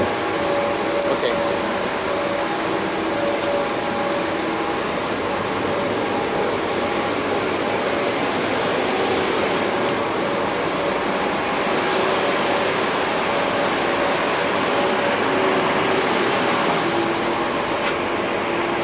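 Industrial blender unit with modified flow meters, able to blend five materials fed from upstairs, runs as a steady, loud machine hum and broadband whir with faint tonal whines, while people talk over it in a plant.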